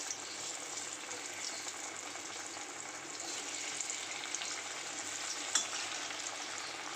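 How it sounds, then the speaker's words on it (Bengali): Raw banana pieces frying in hot oil, a faint, even crackling sizzle throughout with one brief clink near the end, no voices. "এবার দেখো তেলটাও ভালো মতন গরম হয়ে গেছে এবার এগুলো একটা একটা করে ভেজে নেবো"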